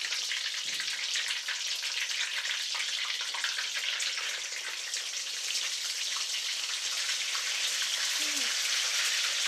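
Torrijas fry in a pan of hot oil, a dense, steady crackling sizzle that stays loud and even throughout, with a brief clink of handling partway through and a voice talking now and then.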